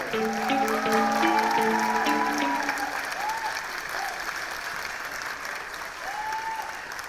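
An audience at a community centre's annual day event applauds a singer on stage, loud sustained clapping and crowd noise that swells early and then continues more softly, with a fading musical tone at the start and brief vocal sounds over it.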